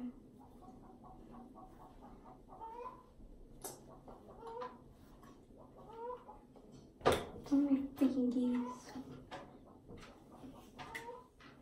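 Chickens cluck and call in short scattered bursts at a moderate distance, with one sharp loud squawk partway through and people talking faintly in the background.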